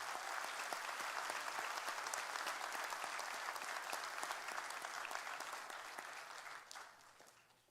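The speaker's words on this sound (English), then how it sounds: "one more round of applause for everyone" Sustained audience applause at a sheriff's office awards ceremony, dense steady clapping from a large crowd that holds throughout and tapers slightly at the end.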